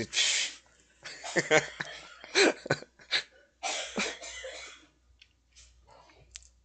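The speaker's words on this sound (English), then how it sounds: "Oh, now I'm making the wife cough out there in the kitchen." Several muffled coughs from a woman in a kitchen some distance away, in short bursts separated by pauses, with a faint voice mixed in.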